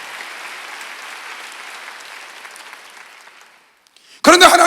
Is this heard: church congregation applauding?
yes